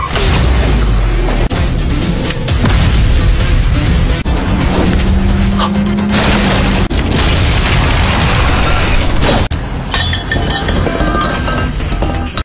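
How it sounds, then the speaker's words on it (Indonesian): An ice grenade goes off in a film as a loud, dense blast with crashing, crackling debris, filling the whole stretch with a sustained roar and brief cut-offs. "Merasa terdesak, Yuan meminta Nian melemparkan granat es."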